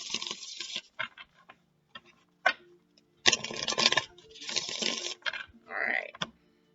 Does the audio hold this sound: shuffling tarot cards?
yes